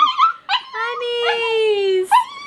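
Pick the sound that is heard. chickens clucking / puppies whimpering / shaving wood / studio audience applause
puppies whimpering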